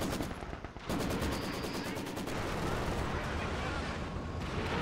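Katyusha rocket artillery in Company of Heroes 2, a dense rapid barrage of launches and blasts after a brief lull, loud and continuous with a rattling rhythmic crackle throughout.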